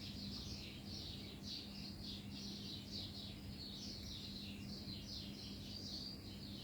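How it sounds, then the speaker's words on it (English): Birds chorus outside a window, their repeated chirps and squawks rising and falling in a steady stream over a low background hum, moderately distant and fairly soft. "I love the birds that are chorusing outside this window"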